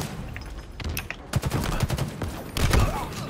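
Gunfire in a ranked Slayer match of a shooter video game comes as a quick volley of close, sharp shots, with a pause and then another short burst near the end.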